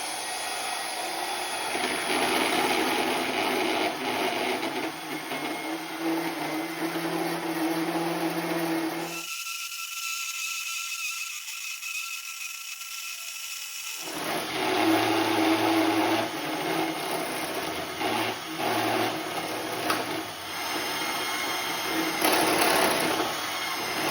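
Four ganged pieces clamped together at one end are cut through with a power saw in a workshop: a loud, sustained cutting whine for about nine seconds, a short quieter break, then another long loud cut.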